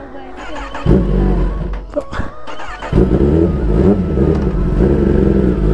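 A Kawasaki ZX10R 2024 sport motorcycle engine revs and rumbles steadily as a two-up ride sets off at slow speed, close and loud, with a person talking over it.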